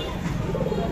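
Male pigeon cooing at a weekly pigeon market, a soft, low, rolling coo heard steadily at close range against a busy market background.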